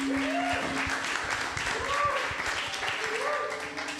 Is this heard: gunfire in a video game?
no